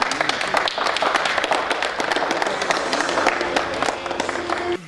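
Crowd clapping at a birthday celebration held at a foundation, a dense, steady spatter of applause throughout with a voice talking briefly over it near the end.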